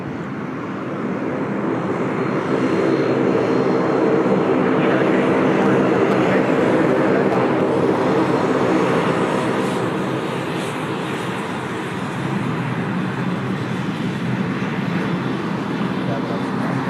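A heavy airliner on approach to runway 16 at Sydney Airport drones steadily and loudly throughout, a broad continuous engine roar that holds nearly constant, with faint voices underneath.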